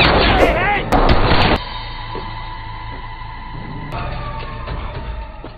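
Gunfire aimed at a fleeing car in a Liam Neeson action film: a few sharp, loud shots in quick succession at the start, then a sustained low rumble and hum.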